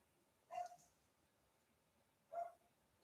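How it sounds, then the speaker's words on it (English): A neighbor's dog barking outside through an open window, two separate single barks about two seconds apart, distant and faint over a quiet room. "So it's some dog outside, some neighbor dog."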